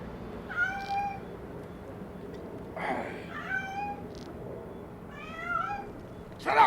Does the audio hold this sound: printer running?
no